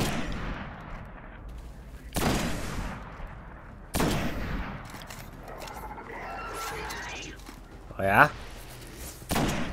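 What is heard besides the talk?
sniper rifle shots in video game Destiny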